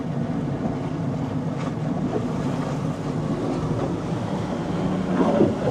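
A Sea Reacher Model Z watercraft runs on open water, giving a steady, loud broadband roar with wind buffeting the microphone throughout, swelling slightly toward the end; no voices.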